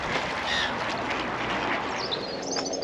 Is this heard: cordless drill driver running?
no